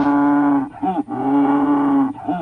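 A man imitates a dying seal with his voice, a sustained, strained moaning cry in two long bursts, each trailing into short gulping sobs, loud and close with no other sounds.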